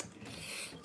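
A sewing machine stitching a narrow seam allowance makes an odd, continuous grinding and ratcheting mechanical whir, steady and fairly close, with no talking over it.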